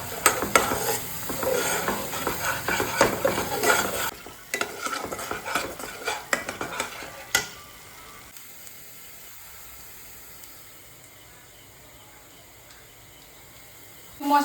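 Spices with kasuri methi being stir-fried in a pan, with vigorous scraping and clattering of the spatula over hissing, sizzling oil, then tapering off into a quieter simmer.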